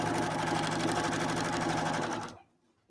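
A sewing machine stitching binding onto a quilt runs in one continuous fast, even whir for over two seconds, then stops abruptly into near silence.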